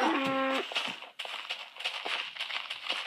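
Cow in the Minecraft video game lets out a single short, tonal moo up front, followed by faint scuffling and game noise.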